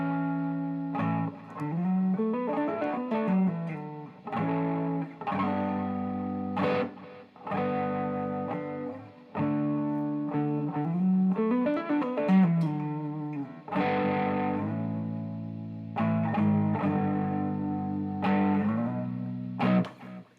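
Distorted electric guitar through a Boss Katana MKII amp, slightly out of tune, playing sustained, ringing chords with bending notes, loud and continuous, with brief gaps between phrases.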